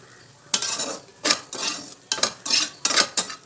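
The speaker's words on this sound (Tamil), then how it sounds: "ஒரு 2 நிமிஷத்துக்கு இந்த மாதிரி ட்ரையாக வறுத்துக்கோங்க" Grated coconut dry-roasting in a pan is stirred with a utensil, making four or five short bursts of scraping and clinking against the metal, close and distinct, with brief quiet gaps between strokes.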